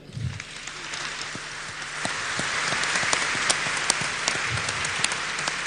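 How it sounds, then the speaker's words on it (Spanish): Applause swells from a conference audience at the closing of a congress, starting sparse and building into a broad, steady wash of claps after a couple of seconds, with faint voices early on. "Un aplauso para él."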